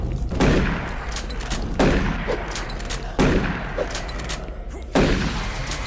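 Heavy gunshots ring out in a first-person shooter, four loud separated blasts spaced about one and a half seconds apart, each trailing into reverberant rumble and debris.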